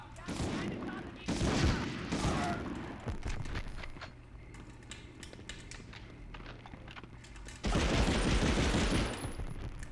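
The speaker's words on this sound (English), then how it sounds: "that machine gun feels great, dude" Machine gun fire in the World War II shooter Medal of Honor, with dense bursts of rattling shots, a quieter stretch of scattered single shots, then another heavy burst, and a voice speaking faintly underneath.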